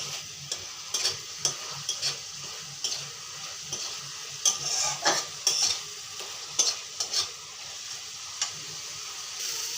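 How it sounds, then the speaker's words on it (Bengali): Spices with Kashmiri chili powder being sautéed in a pan, soft frying sizzle under repeated scraping strokes of a spatula against the metal, a steady stirring rhythm heard up close without speech. "এখন কাশ্মীরি গুঁড়াটা অল্প দিয়ে দেব। ভালো থেকে মশলা থেকে কষিয়ে নেব।"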